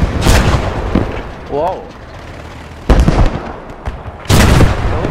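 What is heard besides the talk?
8.8 cm Flak 36 anti-aircraft gun firing, from video game Post Scriptum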